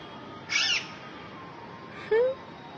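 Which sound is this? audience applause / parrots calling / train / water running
parrots calling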